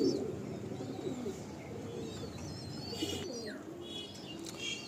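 Pigeons at a home loft, including a Kalsira pair, cooing softly in low, rolling phrases amid faint chirps from other birds and steady background noise.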